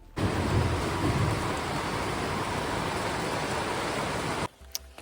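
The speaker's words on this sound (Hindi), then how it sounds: "बहुत ज़्यादा बारिश हो रही है" Heavy rain pours down at a hillside home on an apple farm, a loud, dense, steady roar that cuts off abruptly near the end.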